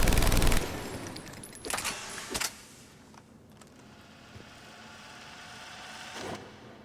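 Typhoon rifle from Mass Effect 3 firing at a target range: a dense loud burst at the start, then shorter bursts and scattered single shots, with a final brief burst near the end over quiet background.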